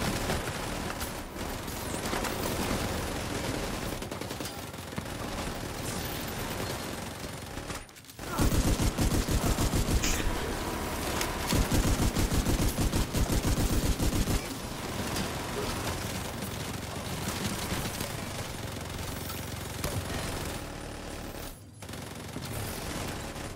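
Video game gunfire from District Union Arena Guardians: dense, sustained automatic fire filling the whole stretch, with a louder, harder burst of rapid shots in the middle and only a couple of brief pauses.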